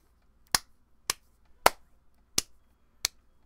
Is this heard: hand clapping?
yes